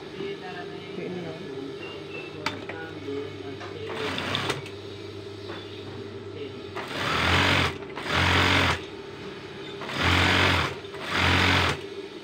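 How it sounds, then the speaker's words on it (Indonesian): A sewing machine stitches the front panel of an adult-size pillowcase in four loud, steady bursts of a few seconds each, separated by pauses, after a quieter stretch with faint rustling and handling of fabric. "Sekarang kita menjahit yang bagian depan."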